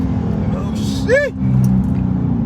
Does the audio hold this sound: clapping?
no